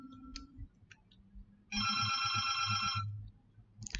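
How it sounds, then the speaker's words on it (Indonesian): A telephone ringtone sounds once in a short burst of electronic trilling, loud and close, between quiet clicks and room noise. "telepon bunyi sebentar."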